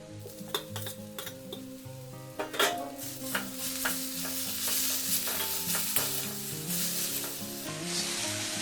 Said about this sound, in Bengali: খুব ভালো করে ধনে পাতাটা মিলিয়ে নিতে হবে